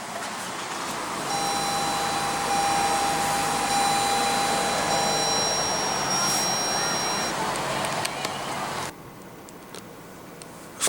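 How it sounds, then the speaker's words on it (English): The 2.0 L four-cylinder turbo engine of a 2015 Lexus NX200t fires up from a push-button start, rising into a steady loud whir with a thin tonal whine, then dropping abruptly to a quieter idle hum near the end. "Just put your foot on the brake and hit the button to start."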